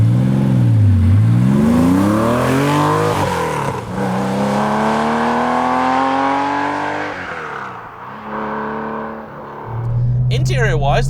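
An air-cooled Porsche 964 911 with a hot cam revs and pulls away, its engine note rising and falling loudly up close through several gear changes.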